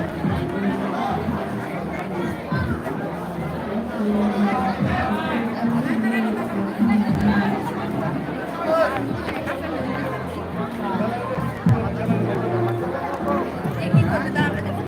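A busy hubbub of many voices in the crowd at the Kishoreganj trade fair, with nearby people talking over the constant background chatter.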